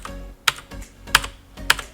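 A computer keyboard key pressed repeatedly while working in After Effects: three sharp, close clicks at steady intervals, with a fainter fourth tap at the end and no talking.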